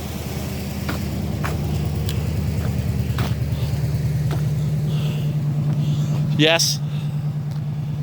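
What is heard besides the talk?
1979 Lincoln Continental car engine running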